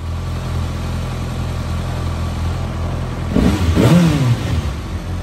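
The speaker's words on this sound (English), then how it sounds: "she sounds and runs like new" A 2023 Kawasaki Ninja ZX-6R KRT motorcycle engine idles steadily, then is revved hard a few times partway through, the rising and falling engine note loud and close, with no talking.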